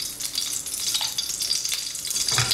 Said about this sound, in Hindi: 3 टेबलस्पून घी डालेंगे।